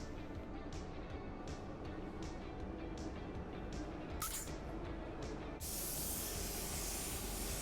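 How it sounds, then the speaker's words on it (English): A spray gun lays a medium-wet first base coat of gray metallic paint on a car, giving a faint, steady hiss of repeated short passes, followed by one longer, brighter continuous burst near the end. "Now I am applying my first coat of base, and I am going about medium wet."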